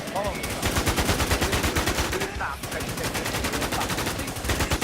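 Rapid automatic gunfire in the video game WarZ rattles continuously in loud bursts, with a short gap in the middle and a faint voice underneath.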